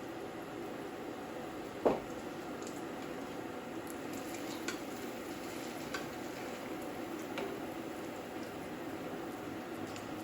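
Scotch eggs deep-fry in hot oil, a steady soft bubbling sizzle running throughout with one brief louder pop early on and faint crackles scattered over the constant hiss.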